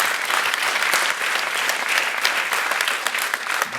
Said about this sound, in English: let's clap for that too